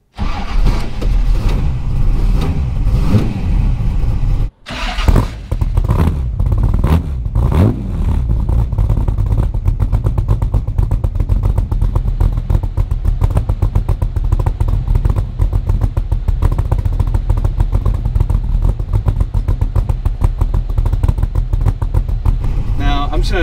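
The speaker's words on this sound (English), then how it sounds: "clutch in, tap the gas pedal twice, and push, turn the key," A supercar engine with a clutch, gas pedal and start button cranks after a short pause, catches, then revs up and down several times before settling into a loud, close, rumbling idle.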